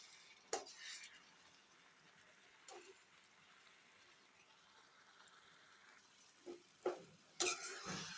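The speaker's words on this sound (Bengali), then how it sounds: "তলাটা ঘষে ঘষে নাড়া দিয়ে দিবেন, যাতে তলাটায় না ধরে যায়" Mango syrup for preserve being stirred in a pan, a utensil scraping the bottom with occasional sharp clinks and scrapes over a quiet background hiss, fairly faint and irregular.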